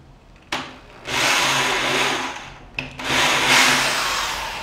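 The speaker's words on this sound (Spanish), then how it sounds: "voy a perforar justo a la altura del hueco que está por debajo" A power drill bores into a wooden table in two sustained bursts, loud and close, whining steadily with a short pause between runs and no voices.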